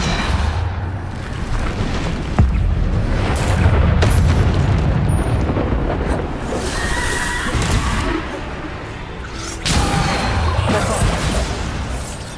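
Explosive Bombarda spell blasts go off in the Hogwarts Legacy video game, loud booms and crashing impacts mixed with other combat effects and game sounds throughout.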